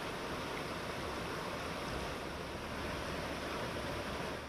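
A river newly formed by a landslide flows with a steady, even rush of water, constant broadband noise with no pauses or talk.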